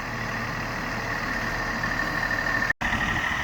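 A small John Deere 3038E compact tractor with hydrostatic drive runs steadily at close range, a continuous low engine drone with a brief cutout near the end, while dragging a landscape rake through gravel.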